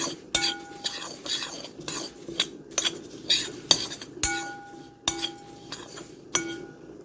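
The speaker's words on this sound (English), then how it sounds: "I just got a spoon, and I'm just going to give this a mix" A spoon stirs vegan nugget seasoning mix with basil in a bowl, giving steady rhythmic metal-on-dish clinks and light scraping, close and clear.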